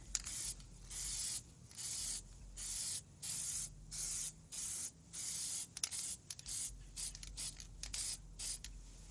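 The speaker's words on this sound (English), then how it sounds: "test spray behind me." A spray paint can hisses in repeated short test bursts, about a second each with brief gaps, close and fairly loud.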